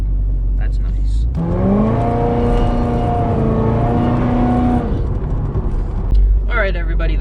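A Pontiac GTO drives past on the street, its engine rising in a loud sweeping roar that swells, holds for a few seconds, then fades away, with quieter noise before and after.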